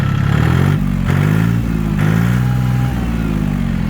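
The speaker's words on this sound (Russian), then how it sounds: "Трактор отлично набирает обороты," Close, loud engine of an Iseki TA-230 four-wheel-drive mini tractor with a tiller, revving up and easing back in repeated swells over a steady clattering rumble.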